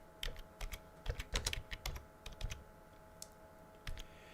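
Quick, light clicks from a computer keyboard used with a games console: irregular bursts of keystrokes, soft and close, with brief pauses between runs. Nobody speaks.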